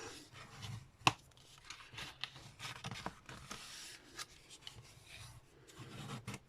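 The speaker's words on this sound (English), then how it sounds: "So burnish all your folds." Bone folder burnishing paper folds on a Stampin' Up! chocolate bar gift box, soft rubbing and scraping strokes in irregular bursts with one sharp tap, close and quiet.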